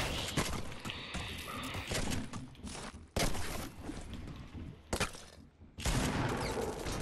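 Gunfire in a Fortnite custom game mode comes as dense, crackling bursts of shots and sharp impacts, broken by short pauses, with loud flurries around the middle and again near the end.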